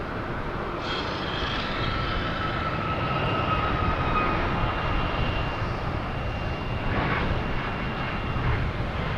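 A Southwest Airlines airliner departing Boston Logan for St. Louis, its jet engines giving a steady, broad roar that holds strong throughout with a faint whine riding over it.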